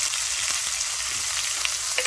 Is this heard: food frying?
yes